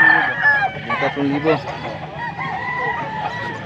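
Roosters crow and cluck among a crowd at a poultry market in Bocaue, up close and mixed with overlapping talk.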